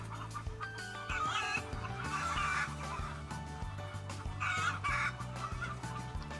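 Hens cluck and murmur continuously in an enriched colony cage system, several birds close together in a busy flock, with a steady low mechanical hum underneath.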